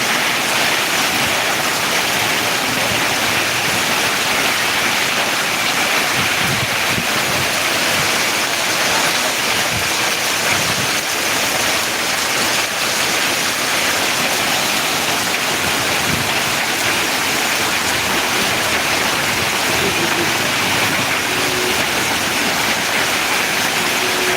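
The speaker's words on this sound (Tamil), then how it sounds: "மழை விழுகிறதே உங்களுக்கு தெரியும் பாருங்கள்" Steady, dense monsoon rain in Ariyalur, Tamil Nadu, falls with a constant loud hiss and no pauses, close by and filling the whole stretch without any talking.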